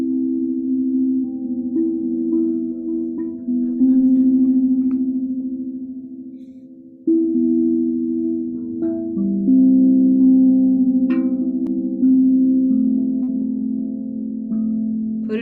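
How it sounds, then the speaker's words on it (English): Steady electronic test tones played over a video call, loud sustained pitches that shift in steps with no talking. "I'm just going to sound some tones, Shoshana,"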